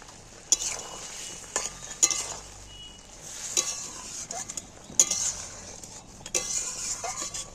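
Fried fish added to spiced masala in a pan and stirred, with a soft continuous sizzle under repeated sharp scrapes and clinks of a utensil against the pan at irregular intervals.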